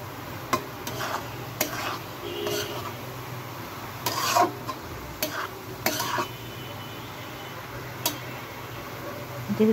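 Vegetables for a roll filling are stir-fried in a pan with soy sauce and red chili sauce. A spatula scrapes and stirs in irregular strokes over a low, steady sizzle, with no talking.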